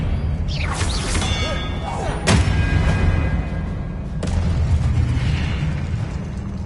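Booming magical blasts and crackling bursts from spells cast in Hogwarts Legacy, several loud impacts in quick succession over a steady rumbling game backdrop.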